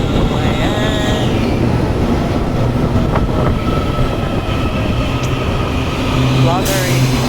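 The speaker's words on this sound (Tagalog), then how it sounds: "Dito na yung train namin." A train pulls into a busy station in Taiwan on a crowded Sunday, with a steady rumble, wheel and rail noise and brief high squeals, under constant crowd chatter and voices nearby.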